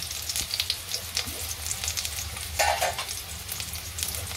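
Brinjal pieces for a Maharashtrian vangyachi bhaji fry in a pan with a dense, continuous sizzle, broken by scraping stirs and a brief louder burst midway, close and without talk.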